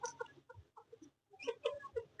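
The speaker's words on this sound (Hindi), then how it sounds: "और आपको हम मुर्गे दिखाते हैं।" Chickens and a rooster at a home birdcage clucking in short, irregular bursts, with a busier, louder flurry of calls toward the end; close and clear, no talk.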